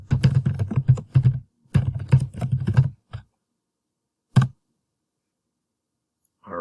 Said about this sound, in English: we're going to type our subtitle